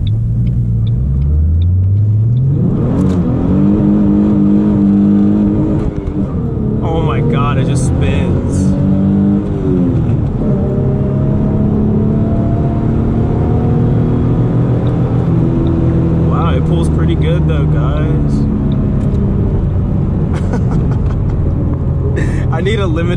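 Track-spec V6 Ford Mustang with a limited slip differential driving on a public street, its engine loud and close, revving up through rising and falling gear pulls with a steady rumble, while people talk over it.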